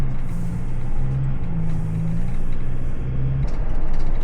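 Loud, steady road rumble and drone inside a moving RV, a continuous low engine and tire roar with slight wavering pitch and no talking.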